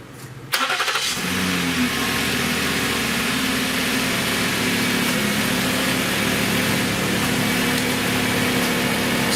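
A 2011 Ford Edge with freshly repaired ignition coils cranks, catches and settles into a smooth, steady idle, heard up close and loud with no talking.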